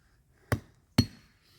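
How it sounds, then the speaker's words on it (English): A Rambo 4 knife, Gil Hibben version, is hammered into the soft wood of a tree, giving two sharp, close metallic whacks about half a second apart with brief ringing tails, and quiet around them. "This is not the easiest knife in the world to hammer in"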